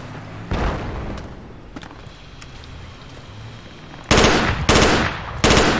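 Heavy .50 caliber machine gun fire in the tactical shooter Project Reality: three short, loud bursts near the end. Before them come a few sharp distant shots over a low rumbling background.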